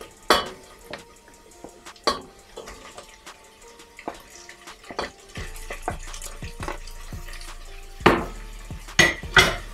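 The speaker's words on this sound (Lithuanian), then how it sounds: "Sudėsim dešreles į puodą apkepti." Pork sausages being browned in a pot, with sharp clinks and scrapes of a utensil against metal over a faint background sizzle, irregular and close.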